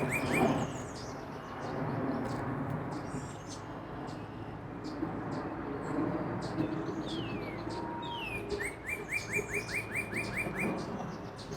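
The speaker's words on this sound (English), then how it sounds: "I did then see a male cardinal just singing his heart away over in that tree." A male cardinal sings from a tree at a lakeside bird sanctuary, its whistled phrases repeating through steady background noise alongside other chirping birds, with a faster run of clear notes near the end.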